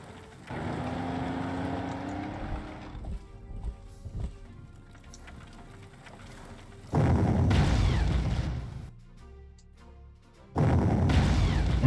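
Artillery fire in the Panzer Corps strategy game during a Warsaw battle: two loud, heavy booming bursts land a few seconds apart, with quieter rumbling battle effects before them and no talking.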